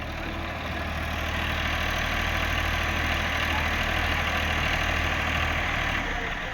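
Sonalika 745 tractor engine labouring steadily as it tows another tractor, a continuous loud low diesel drone that holds without break throughout.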